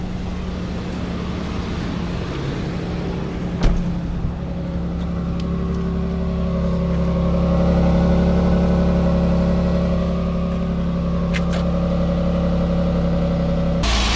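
A Toyota 4Runner engine fitted with a new exhaust Y-pipe revs up and holds a deep, steady drone that swells mid-clip and then eases back, with a sharp knock near the start and no talking.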